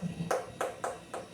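A hand taps a watermelon on a farm to check whether it is ripe, a quiet run of five dull knocks at an even pace, close by, with no talking.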